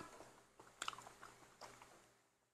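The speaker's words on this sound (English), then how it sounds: "I know I'm chewing in your ear, right?" Someone chewing fruit very close to the microphone, with a few crisp bites and wet crunches clustered near the start, then softer mastication fading out; no talking.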